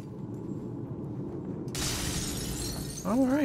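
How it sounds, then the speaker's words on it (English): A sudden burst of glass shattering in the Assassin's Creed Unity video game, scattered debris spilling for over a second while a low ambient bed hums underneath, ending in a rising swell. "Glass is falling down."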